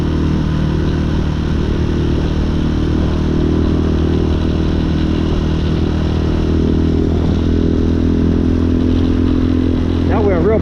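A street legal dirt bike rides through city streets at night, its engine droning loud and steady throughout with wind rush, the pitch rising slightly near the end.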